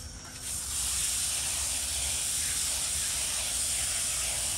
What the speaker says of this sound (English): We'll take these inner filters out and rinse this.